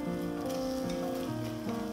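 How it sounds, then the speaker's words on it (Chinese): Onions sizzle in a small amount of hot oil in a pan as a chickpea and cauliflower curry is started, a steady close crackling frying hiss with no voices. "锅中倒入少量的油，烧热之后就可以准备放洋葱了。"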